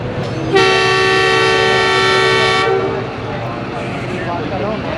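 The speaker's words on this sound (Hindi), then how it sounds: "तकरीबन 12 मिनट की ताख़ीर से ट्रेन रवानगी के लिए तैयार लाहौर जंक्शन रेलवे स्टेशन से" The Babu Passenger train at Lahore Junction railway station sounds a loud, sustained horn for about two seconds over the rumble of the station, followed by ongoing background noise and crowd murmur.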